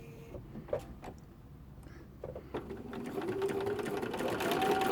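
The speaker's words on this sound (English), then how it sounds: "Start sewing," A sewing machine chain pieces patchwork blocks, starting with a few light taps and clicks, then running into a steady, rising whir close by.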